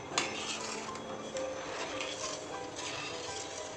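A spoon stirs sugar syrup in a metal pot for rasgulla, with soft scraping and light clinks against the pot over a faint hiss, close and quiet and without talk.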